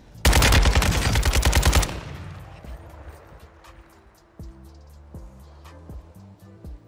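Automatic gunfire in Call of Duty: Modern Warfare II on the Vondel Park map erupts as a dense rapid burst for under two seconds, then fades into scattered distant shots and game effects.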